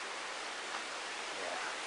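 A river flows beside a walking trail as a steady, even rush of water, fairly faint and continuous throughout with no voices.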